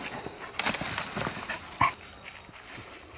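Tracking dog whimpering during a deer hunt outdoors, a few short high whines and snuffles close by over rustling and wind noise.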